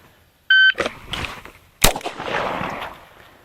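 MK23 SOCOM pistol fired after a shot timer beep: a short electronic tone, then a loud, sharp gunshot with echoing report and a lingering rumble of range noise, no talking.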